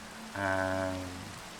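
Steady rain falling in Minecraft with the ATM Gravitas modpack, a soft continuous patter with a faint tonal swell in the middle, heard alone.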